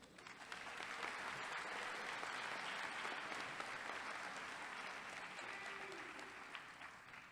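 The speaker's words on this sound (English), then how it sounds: "Please offer again your applause to these honorees." A college commencement audience applauds honorees, a dense, even wash of clapping from a large crowd sustained throughout, somewhat distant and moderately quiet.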